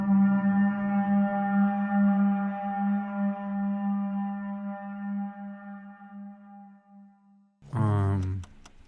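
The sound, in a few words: Crow Mauler boss noise from the video game Fear and Hunger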